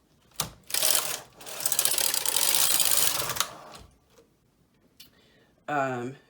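A double-bed knitting machine's carriage is pushed across the bed to knit a row, giving a close, loud mechanical whirring rattle for roughly three seconds. A short burst of speech follows at the end.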